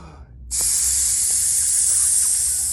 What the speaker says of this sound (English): you make a hissing or a sizzling sound on your way out